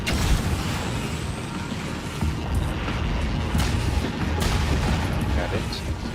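Cannon fire in the video game DeathGrip makes a dense, continuous rumbling barrage with scattered sharper booms, loud and sustained throughout.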